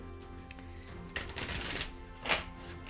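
Quiet papery rustling and a couple of short riffling bursts as a deck of tarot cards is shuffled close by in a still room.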